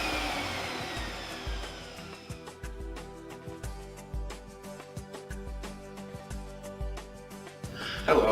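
A Sirena water-filter vacuum cleaner runs steadily to dry out its hose, a continuous motor whir with pulsing low surges, and a louder burst of noise at the very end.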